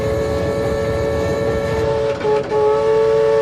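A loud, steady steam whistle on a Murray River boat in Australia blows one long sustained blast, briefly wavering near the end before holding on.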